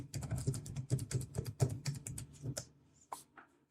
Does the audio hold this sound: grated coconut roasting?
no